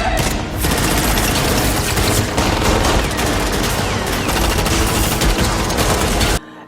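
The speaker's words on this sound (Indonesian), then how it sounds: "Sasa yang terbakar amarahnya menghujani anak buah Pardoner dengan peluru." Sustained, dense gunfire in an action-film shootout, a continuous loud barrage of rapid shots and bursts lasting several seconds before cutting off abruptly.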